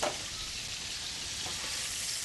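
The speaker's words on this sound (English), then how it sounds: "that's sizzling away nice" Steady frying sizzle of chicken in a hot pan, a continuous crackling hiss with no talking over it.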